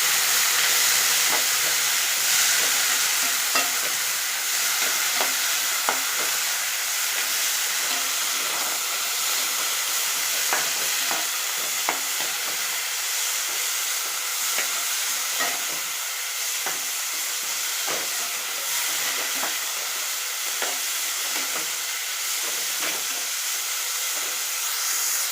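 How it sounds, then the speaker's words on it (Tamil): Coriander leaves sauté in a pan, a continuous sizzling hiss broken by frequent small crackles and stirring scrapes, close and fairly loud throughout. "கொத்தமல்லி போட்டு ரொம்ப நேரம் வதக்க வேணாம், கலர் மாறிடும்"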